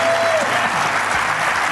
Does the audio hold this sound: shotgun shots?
no